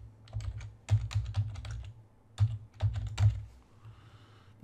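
Quick bursts of keystrokes on a computer keyboard as a username and password are typed, two clusters of clicky taps separated by a short pause, close and fairly quiet.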